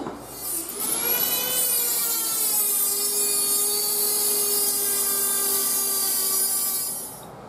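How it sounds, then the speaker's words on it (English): A Dremel rotary tool cuts through a pipe union nut on an old home heating system, a loud, steady high-pitched whine of grinding metal lasting several seconds, alone and close. "I got to cut this nut off because it's just going to get in the way. Um, but it's time for the Dremel tool"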